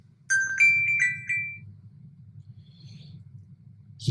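A mobile phone ringtone chirps in a short melodic series of high tones near the start, then fades out over a steady low hum, ending with a soft knock.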